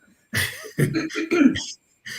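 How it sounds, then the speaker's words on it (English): A few harsh coughing or throat-clearing bursts in quick succession, close and fairly loud, with short gaps between them. "Before I start going into another coughing bout."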